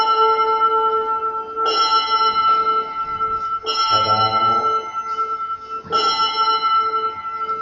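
A bell rings out during a physics lecture, several sustained metallic strikes with long ringing tones that overlap and decay, fairly loud and steady, with faint murmuring beneath.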